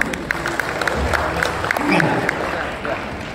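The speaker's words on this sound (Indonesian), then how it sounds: "Kita beri tepuk tangan dulu supaya semangat." Audience applause for a speaker taking the floor at a nickel downstreaming symposium, a continuous patter of many hands with a voice faintly audible over it.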